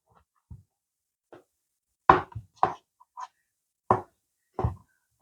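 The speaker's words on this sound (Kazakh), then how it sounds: "Мұны да ұсақтап, көбектеп турап аламыз." Several sharp knife chops on a board as tail fat is diced into small cubes, irregular single strikes with short pauses, close and fairly clear, no talking.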